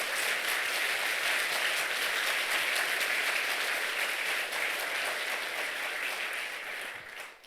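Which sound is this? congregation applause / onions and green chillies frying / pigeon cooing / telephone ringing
congregation applause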